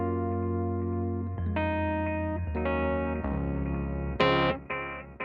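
Electric piano in the style of a Rhodes, using the Going Incognito preset from the V8, plays sustained chords an octave lower with a warm, effected tone, shifting through several held chord changes and ending on a brighter, louder chord, with no voices.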